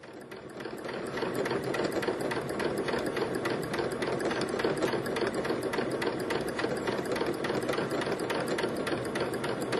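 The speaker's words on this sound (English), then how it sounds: "Go ahead and sew along there" A sewing machine stitches stretchy quilt block fabric in a steady, rapid needle rhythm, running close and constant without pause.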